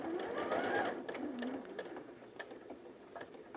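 A home sewing machine runs a quarter-inch back stitch across leftover fabric for a gift bag, a close, steady whirring hum of needle strokes with faint pauses and small clicks toward the end.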